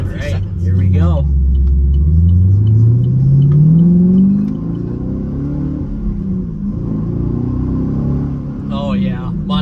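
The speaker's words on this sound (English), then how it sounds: "MBRP Armor Light exhaust, axle back exhaust." A Camaro SS with an MBRP Armor Lite axle-back exhaust revs up and climbs in a loud, deep sweep, then settles into a steady rumbling idle, with brief bits of speech at the start and end.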